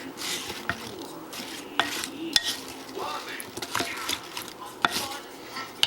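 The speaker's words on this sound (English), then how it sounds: "I'm just going to try and get these mixed around as much as I can" Baked cinnamon apple pieces being stirred in a dish, a close run of soft scraping and clinking utensil strokes with moist squelches.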